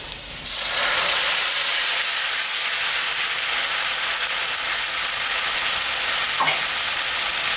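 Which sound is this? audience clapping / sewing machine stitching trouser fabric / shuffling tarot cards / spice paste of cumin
spice paste of cumin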